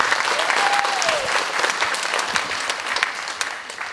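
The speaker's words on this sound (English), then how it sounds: "Okay, if we can give a round of applause for all of our" Audience applauding at a primary school graduation ceremony, a loud sustained wash of clapping that carries on steadily throughout with no talk.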